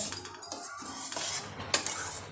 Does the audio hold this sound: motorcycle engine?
no